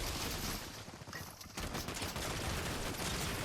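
Rapid gunfire from a Fortnite Battle Royale match, a dense continuous volley of shots rattling loud and close for the whole stretch, with a brief dip in the middle before the barrage resumes.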